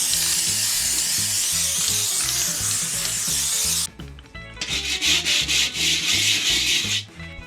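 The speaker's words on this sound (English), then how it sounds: "I'm just going to give it a quick sand down" Sanding paint and rust off a metal panel during a Triumph Tigress scooter restoration: loud, continuous abrasive rubbing close by, steady for several seconds, then a brief dip followed by a rhythmic back-and-forth scrubbing.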